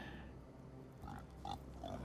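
Pigs in a city-building video game let out a few brief grunts and oinks over a steady murmuring game ambience.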